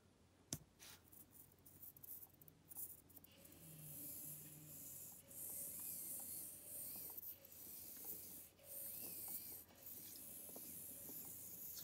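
A 1/64 scale micro RC Jeep Rubicon's tiny geared reduction motor drives only the rear wheels, giving a faint, steady high whir with small rises and dips in pitch, running alone for several seconds after a few light clicks.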